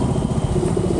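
Royal Enfield Hunter 350 motorcycle engine idling in city traffic, a loud, close, steady low thumping putter with a slight clatter throughout.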